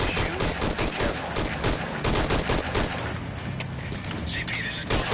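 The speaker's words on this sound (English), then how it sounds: "Identify gunfire." Rapid bursts of gunfire from the Metal Gear Solid V video game, a dense string of loud automatic shots and booms that later thins into sparser reports.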